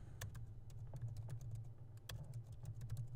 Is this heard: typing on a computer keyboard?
yes